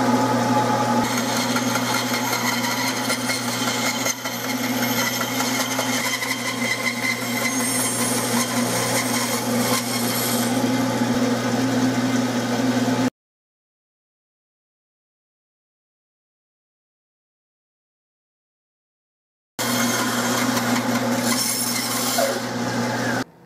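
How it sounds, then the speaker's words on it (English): A bandsaw trims a block of burl walnut for Colt Detective Special revolver grips, giving a loud continuous whine and rasp with a steady motor hum. The sound cuts out into silence partway through, then resumes. "I'm just going to get rid of a bunch of this with a bandsaw."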